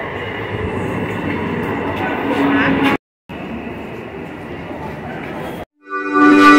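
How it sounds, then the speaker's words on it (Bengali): A passenger train rolls along with a constant loud rumble and rattle from inside the carriage, cut by two brief silences, ending with a clearer hum and a faint tone, on a journey to Deoghar. "ওমের ছিল এটা প্রথম ট্রেন জার্নি আমাদের সাথে।"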